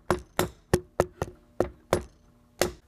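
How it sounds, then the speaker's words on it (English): A hammer striking an iPhone to force it into a VR headset: eight sharp, fairly soft knocks in an uneven rhythm, each a crisp hard tap with a short ringing decay, and no voices. "if I get this hammer and hammer on my phone, it might fit"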